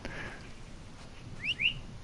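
A player character whistles in the video game Assassin's Creed Origins: two quick rising whistle notes near the end, fairly clear over a quiet game background.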